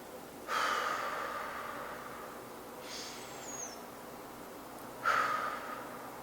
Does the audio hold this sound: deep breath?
yes